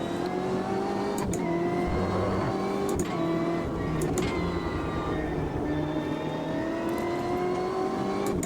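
Race car engine with an air compressor in the Automobilista 2 racing game, a continuous droning engine note rising and falling through gear changes, with brief sharp clicks and shifts recurring every second or so.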